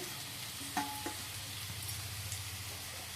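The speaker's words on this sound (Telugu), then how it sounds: "ఈ ఆనియన్ మగ్గేంత వరకు సిమ్లోనే పెట్టి మగ్గించుకోవాలి" Onions soften in a pan over low heat, giving off a faint, steady sizzle with a couple of soft clicks from stirring, and no voices.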